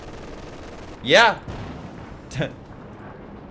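Airstrike explosions in the Company of Heroes 2 video game during a 3v3 match on the Angermunde map: one loud, sharp blast, then a second, shorter and fainter burst a moment later, over a low steady background with a brief spoken word.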